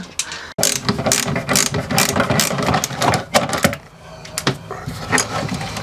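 A spanner ratchets on a tight bolt aboard a narrowboat, producing rapid, close metallic clicking in uneven bursts with brief pauses.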